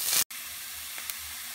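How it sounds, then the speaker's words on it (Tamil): Onions dropped into hot oil in a pan for kothu chicken, giving a steady, close hissing sizzle that breaks off for a moment early, then carries on evenly. "எண்ணெய் சூடானதும் வெங்காயத்தை ஆட் பண்ணிடலாம்"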